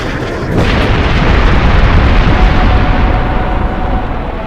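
Artillery fire-mission barrage in Tom Clancy's Ghost Recon Advanced Warfighter, a dense, sustained low rumble of overlapping explosions that swells after a half-second and holds loud and steady to the end, with no voices.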